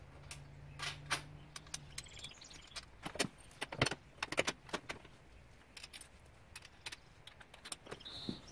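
U-bolts, washers and nylon lock nuts are fitted onto a KFI winch mount (model 100520) behind a bumper, giving sporadic close metallic clinks, taps and rattles against a quiet background, with brief jingling bursts between pauses.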